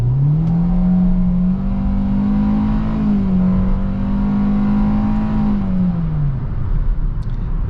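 A 2023 Hyundai Venue SEL's 1.6-litre naturally aspirated four-cylinder accelerates in normal mode, its loud, droning engine note heard from the cabin, climbing, levelling off, climbing again, then easing back.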